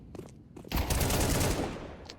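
Rifle gunfire in a video game match: a couple of short, sharp shots, then a dense rapid burst of automatic fire lasting about a second, followed by a lone later shot.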